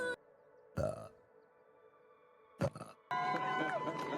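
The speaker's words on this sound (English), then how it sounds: "I burped!" A person on a livestream lets out a couple of short, gurgling burps amid quiet background tones, followed by a louder, noisier stretch at the end.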